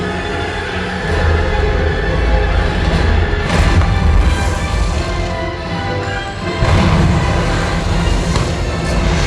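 A ride explosion effect at Universal Studios Hollywood: loud, deep booming crashes and rumbling blasts sustained over several seconds, with a fresh surge of impacts near the end, no speech audible.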